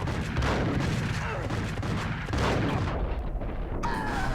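Shotgun fire in the video game Max Payne, dense, loud booming blasts and rumble filling the mix almost continuously, with a sharper high-pitched sound near the end.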